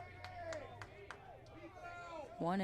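A rowdy baseball crowd at Pilot Field during a college championship game, with scattered claps and shouts under a close announcer's voice, ending in a louder burst of crowd noise.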